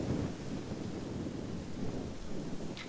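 Low rumbling thunder and a broad wash of rain fill a Total War: Rome 2 battlefield during an Athens versus Spartan fight, with a steady mid-level roll and a brief sharper hiss near the end.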